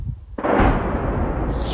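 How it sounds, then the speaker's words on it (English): A drone strike explodes over the Moscow region at night, one sudden heavy boom that keeps rumbling and fades slowly, loud and somewhat distant, with no voices. "we definitely heard that massive explosion there from a drone incoming to the Moscow region last night"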